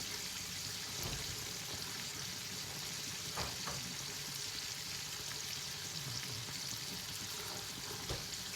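Food stewing with soy sauce and pepper in a covered pan, a steady soft sizzle and bubbling hiss running evenly throughout, with a few faint clinks and no talking.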